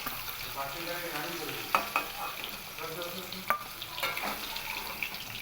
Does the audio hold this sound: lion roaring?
no